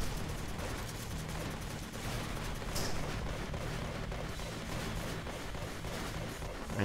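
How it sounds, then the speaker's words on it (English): Sniper fire and dense gunshots in the video game Kick Ass Commandos, a steady, crackling barrage of shots running throughout, fairly distant and unbroken, with no voices over it. "Got the stupid sniper sniping at us."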